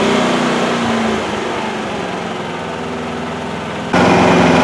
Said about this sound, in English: switch it very quickly before the generator shuts down on you